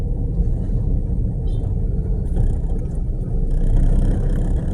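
Concrete mixer truck rolls along with its right rear tire burst, giving a steady, loud low rumble of engine and road noise that swells slightly toward the end.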